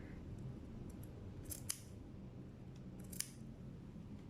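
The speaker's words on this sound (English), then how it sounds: "once I snip, I spread it. Okay, I think I need to snip here as well." Scissors give a few crisp snips through fabric, two clear cuts spaced apart in a quiet room with no talking.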